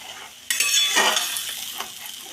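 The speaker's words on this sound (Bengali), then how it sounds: "সামান্য একটু চিনি দিয়ে এটাকে ভালো করে নাড়িয়ে নিচ্ছি।" Stuffed kakrol tossed in a hot pan with turmeric and a little sugar, with a sudden burst of sizzling after a quiet start and then a few scraping stir strokes close by.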